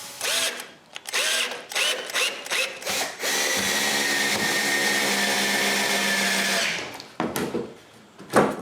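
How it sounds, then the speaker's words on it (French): A power drill drives screws into wooden trailer ramp boards joined with a crosspiece of wood, short revving bursts giving way to a long steady whine before stopping, then a few more brief bursts, close and loud with no talking. "c'est le temps de les visser ensemble avec un bout de bois de la même largeur que les planches"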